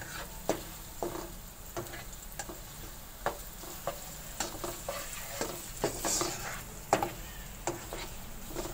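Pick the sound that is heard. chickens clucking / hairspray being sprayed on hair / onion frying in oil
onion frying in oil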